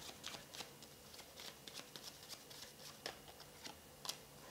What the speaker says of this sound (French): Je vais juste tirer une petite carte sur la carte de la lame.